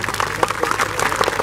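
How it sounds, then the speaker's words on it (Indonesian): An audience at a sholawat religious gathering claps in a short, lively burst, a crowd of hands heard fairly close and loud with no talking over it. "tepuk tangan untuk semuanya"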